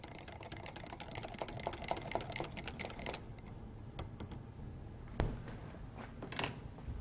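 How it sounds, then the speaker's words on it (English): Melted butter whisked with lemon, mustard, garlic powder and onion powder in a bowl: quick rhythmic ticking of the whisk for about three seconds, then a few scattered clicks in a quiet room. "I'm going to whisk that together."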